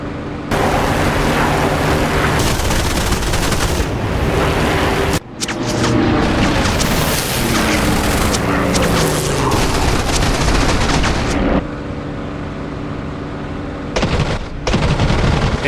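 Guns of a Spitfire Mk IX in the DCS flight game fire in loud, sustained bursts over the steady roar of the aircraft engine, with brief breaks between volleys.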